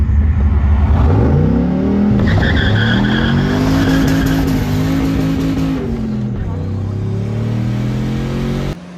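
A Ford car launching hard, its engine revving up loudly through rising gears with tire squeal, close and continuous before cutting off at the end.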